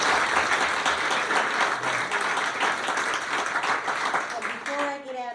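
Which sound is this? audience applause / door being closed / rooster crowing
audience applause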